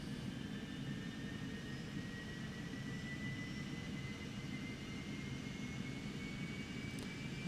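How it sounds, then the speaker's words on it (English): A Cessna Citation Mustang jet engine spools up in the X-Plane 11 simulator, a steady, fairly loud whine and rush that holds evenly throughout with no one talking. "And we can now see the engine spooling up."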